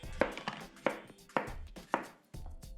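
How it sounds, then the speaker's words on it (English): A knife chops through a cucumber on a cutting board, five distinct sharp thunks in a steady rhythm, close and clear with no talking. "I'm just gonna give my cucumber here a chop so it's nice and"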